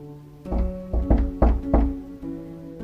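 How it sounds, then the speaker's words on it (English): Loud pounding knocks on a door, a run of about six heavy thuds in an irregular rhythm against a low background hum, with no voices. "the concierge lady just pounded on my door"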